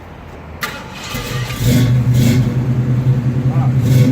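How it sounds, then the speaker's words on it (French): A 1966 Ford Mustang with a full Flowmaster stainless exhaust cranks, catches and settles into a loud, deep rumbling idle with a few blips of revving, close by. "Ligne complète inox Flowmaster, il faut qu'on entende chanter."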